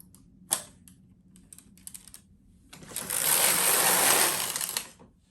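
Knitmaster MK-70 knitting machine working a pattern, with a few sharp clicks and clatters first, then a dense rattling carriage pass that swells for about two seconds and fades out.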